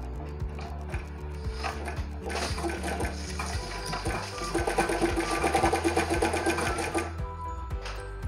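An Usha 3-thread overlock machine stitching fabric: a fast, loud mechanical whir with rapid rhythmic clatter and ticking, slowing and stopping briefly near the start before running steadily for several seconds, up close.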